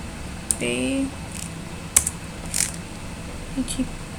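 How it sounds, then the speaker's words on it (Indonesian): Computer keys are tapped a few times at a desk during statistics work in SPSS and R, with sparse, separate clicks and a short burst of speech near the start. "Setelah itu kita ketik juga CCP"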